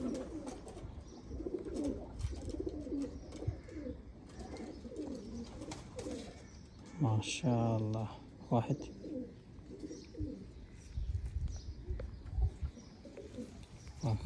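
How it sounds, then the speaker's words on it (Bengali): Sithwala teddy pigeons coo repeatedly in rolling, throaty bursts, with a louder close call near the middle, while someone speaks briefly and handling noises clatter around them. "এটা কিন্তু সিথওয়ালা টেডি"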